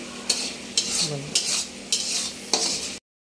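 Spice paste for a pangas fish curry being stir-fried in a pan, with five evenly spaced scraping stirs cutting through a continuous sizzle, close and clear, ending abruptly.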